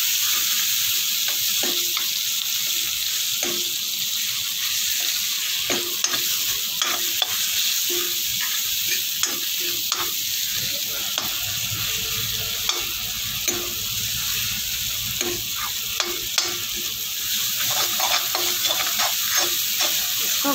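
Parwal and potato curry with tomato frying steadily in a pan, a constant sizzling hiss broken by repeated scraping stirs of a spoon through the vegetables, close and fairly loud with no talking.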